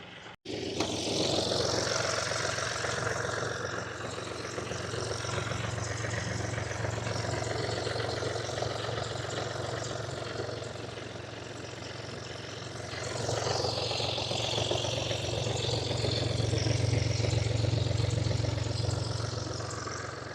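A BMW 216d Active Tourer diesel engine idles with a constant low rumble, rising briefly in the middle, then settling back to a steady hum.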